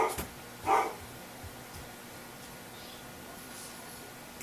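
A dog barks indoors a couple of times, one sharp bark standing out near the start against a quiet room background while someone works on a metallic poppy craft.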